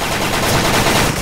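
In the video game Special Force, an L85A2 machine gun fires one dense, rapid automatic burst, loud and continuous for about a second.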